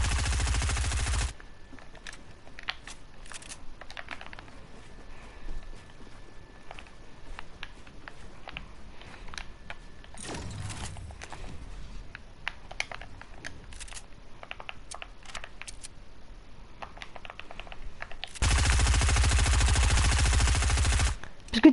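Gunfire from a video game, with bursts of automatic shots and scattered single shots against a quiet background. A loud burst opens the stretch and another comes near the end, and faint clicks and rustles fill the gaps.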